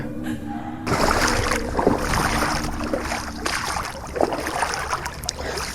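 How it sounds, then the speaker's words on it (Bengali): A boat rowed across a river: steady close water wash with splashing and lapping running throughout, a few sharper splashes standing out, and no talking. "তারপর নৌকা চালাতে শুরু করলাম।"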